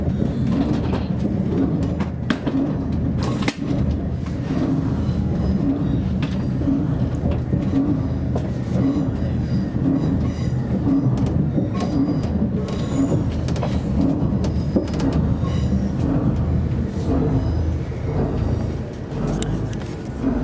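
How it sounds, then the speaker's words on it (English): A TransPennine Express train runs along the line, a continuous loud rumble of wheels and carriage noise heard from inside, steady throughout with occasional clanks. "Welcome to this Transpennine Express service to Manchester Airport"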